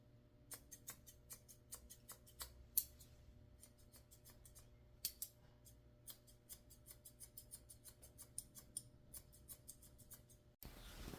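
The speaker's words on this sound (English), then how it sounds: "I'm trimming up his front feet and cutting his nails." Scissors snipping fur on a Pomeranian dog's front feet during grooming, a quick run of sharp, fairly faint clicks in irregular bursts with brief pauses, then a louder rustle at the end.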